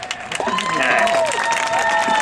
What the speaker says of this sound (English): Give it a cheer for him right here